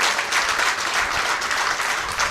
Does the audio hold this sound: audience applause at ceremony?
yes